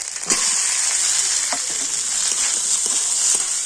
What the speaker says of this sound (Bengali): এবারে আমি সিদ্ধ করে রাখা আলুটা দিয়ে দিচ্ছি